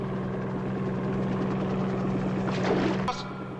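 A postal helicopter flies over the Amazon, heard as a steady rhythmic rotor chop with a low engine drone, continuous and fairly close before dropping off abruptly near the end.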